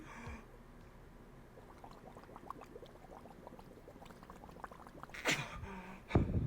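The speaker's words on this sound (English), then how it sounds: "what I could actually do is unattach that and just blow into this myself to make bubbles" Air blown by mouth through a tube into a pet piranha fish tank, making a soft, steady bubbling gurgle under low background noise, ending with two louder breathy bursts near the close.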